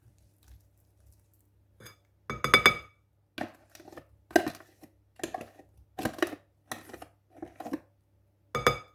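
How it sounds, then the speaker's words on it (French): Apple walnut cake batter mixed with flour in a bowl: a spoon clinks and scrapes against the bowl in short irregular strokes over a quiet background. "On mélange bien le tout."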